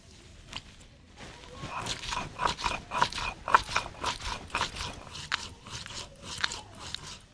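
Fried whole spices (cardamom, cloves, cinnamon) ground with water on a sil grinding stone: repeated gritty scraping and crunching strokes in an uneven rhythm, close and moderately loud, with no talking.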